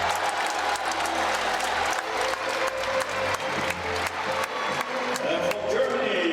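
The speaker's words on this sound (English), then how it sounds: "The crowd are giving him a standing ovation." Sustained crowd applause fills an arena at a table tennis quarterfinal in Rotterdam as spectators rise for a standing ovation, dense steady clapping throughout with a faint voice underneath.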